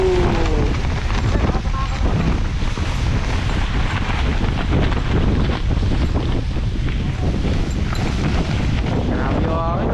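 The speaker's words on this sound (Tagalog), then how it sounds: "Grabe yung hangin, no?" Strong gusts batter the microphone outdoors, a loud, unbroken roaring buffet that swamps everything else for the whole stretch.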